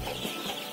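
Young male broiler chickens, about 16 days old, from a flock of around 500 kept on a farm, clucking and chattering continuously at close range with no talk over them.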